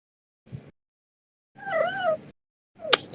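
A small female cat in heat gives short, insistent yowling meows, three separate cries spaced by silence, the middle one longest and wavering, heard alone and fairly close.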